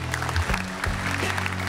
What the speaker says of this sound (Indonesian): Tepuk tangan untuk Suci 8.